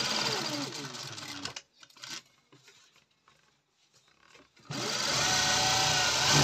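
A sewing machine stitches a coat in two bursts of fast whirring, with a quiet pause of handling noises between them, close and loud, with no talk.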